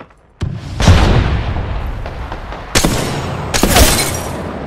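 Gunfire erupts in a shooter video game, with a sharp crack and then several heavy booming bursts that ring out loud and close, with no talking.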